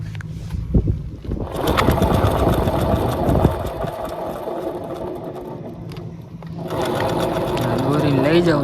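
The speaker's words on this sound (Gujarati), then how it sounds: "એન્જિનમાં અવાજ આવવા માંડ્યો, ખતરનાક અવાજ આવે ચાલુ કરું ને તો." A faulty Honda Activa scooter engine running with a loud, rough mechanical racket, a steady buzzing rattle that surges and then settles back to a harsh idle.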